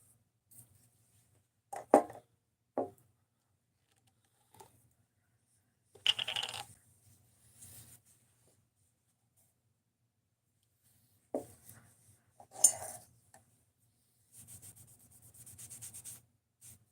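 Gunk being wiped off a Rex 121 steel knife blade after edge retention cutting, heard as close, intermittent rubbing and scraping strokes with quiet gaps between them.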